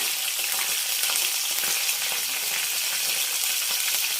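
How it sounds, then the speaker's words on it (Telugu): Five or six green chillies fry in hot oil in a pan for coconut chutney, giving a steady, bright sizzle that stays even and close throughout with no voices. "వేగిన తర్వాత పచ్చిమిరపకాయలు వేసుకుందామండి"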